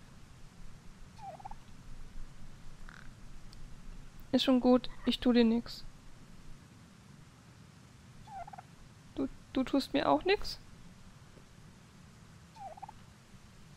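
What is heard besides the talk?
eagle calls while being petted, video game The Pathless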